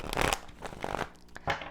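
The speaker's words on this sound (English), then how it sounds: "It's about to shuffle again," Tarot cards being shuffled by hand, several quick riffling bursts close up with short pauses between them, fairly soft and with no talking.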